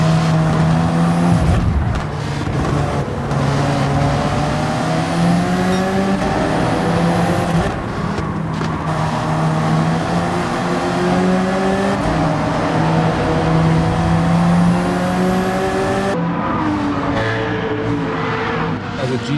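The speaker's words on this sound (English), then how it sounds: "As the GTR goes past us" Nissan GT-R race car in Gran Turismo 7 at Deep Forest Raceway, engine droning loud and steady with shifting harmonic whine as it passes close, joined by other cars and brief contact noise, with talk over it.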